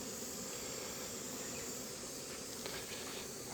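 Dense, continuous buzzing of many hornets swarming close by a beekeeper's hives, steady and loud with no voices.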